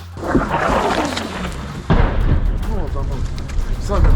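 Deep booms of explosions thud amid loud, chaotic commotion and voices during a family's evacuation from Krasnohorivka, Ukraine, with one sharp blast standing out midway.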